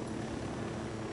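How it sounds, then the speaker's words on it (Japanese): An Unidad helicopter approaches in the video game Ghost Recon Wildlands, its rotor and engine a brief, steady, fairly loud whirring drone. "でユニダットのヘリ来てるぞ。"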